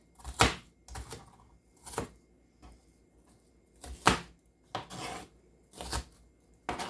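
Food roughly chopped with a knife on a board, about eight crisp, separate knocks in an uneven rhythm with short quiet gaps, close and fairly quiet.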